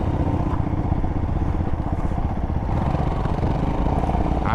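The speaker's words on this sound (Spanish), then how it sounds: "mira, el de atrás va con moto" A motorcycle engine drones steadily and loudly nearby on an offroad trip in Mongolia, with a rough, rumbling clatter, holding its level throughout without any voices.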